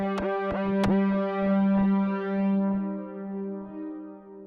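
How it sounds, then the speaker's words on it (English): A Cheeze Machine PRO synthesizer plays a sustained, buzzy chord with a delay effect, sharp plucked attacks repeating and echoing in a steady rhythm that fades gradually over several seconds. "Next, we have the delay effect."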